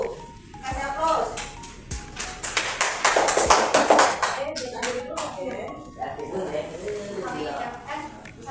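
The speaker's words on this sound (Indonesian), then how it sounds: "Kasih aplaus." Audience applause for group 1 rises into a swell of many hands clapping, close and lively, then thins out as a voice speaks over the fading claps.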